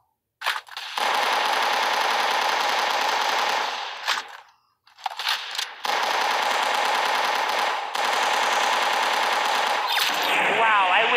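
Automatic Tommy gun fire in a video game, in long sustained bursts with a couple of short breaks, loud and close, ending in a brief quieter gap.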